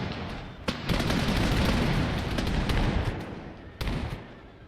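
Musket volleys in the video game Napoleon Total War, with two sharp cracks standing out, one early and one near the end, over a continuous rolling crackle of massed fire and battle noise.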